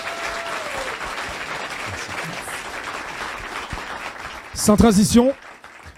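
Audience applause for a singer at a Christmas Caribbean song contest, a steady mid-level crowd clapping that fills the hall, with a voice briefly speaking over it near the end.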